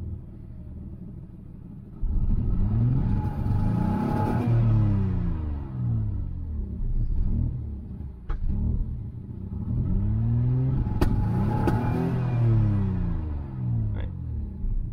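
A Citroën XM V6 idles roughly and unevenly at operating temperature with an ignition or injection misfire, its low engine rumble close and steady with surges and occasional sharp pops.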